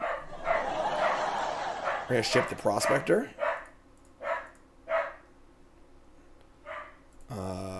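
A dog barks repeatedly during a live-streamed Magic: The Gathering card game session, with about five sharp, spaced barks and a whimper near the microphone. Someone talks over the first few barks.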